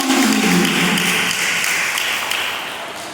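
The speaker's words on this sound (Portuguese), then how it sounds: "Eu peço que tu aplauda o Senhor forte" A church congregation applauds during a women's missions service, a dense, steady wash of clapping that fills the room and slowly eases in volume over a few seconds, with no voices on top.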